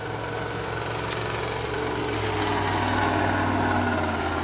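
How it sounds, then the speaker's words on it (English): A nearby engine revs and idles steadily beside a street on the Empire State Trail, a constant low droning hum with a slight swell toward the end, heard alone without talk. "every time I try to talk, there's an engine revving"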